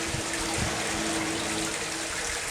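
Water trickles steadily out of a dynamited mine hole, a continuous soft splashing wash with no talking.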